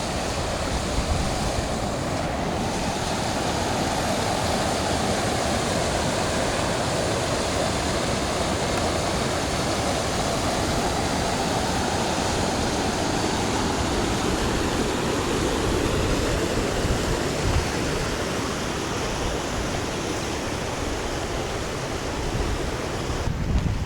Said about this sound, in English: This is the flood overflow.